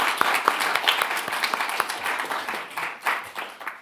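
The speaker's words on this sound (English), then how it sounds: "Round of applause for Spike Cohen there." Audience applause at a televised gun-control debate, a crowd clapping steadily for several seconds, fairly distant and moderate in level, with no talk over it.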